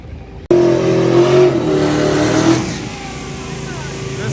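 A drag race car launches down the track, a sudden loud engine roar that holds briefly then fades as it pulls away; a voice is faintly heard beneath.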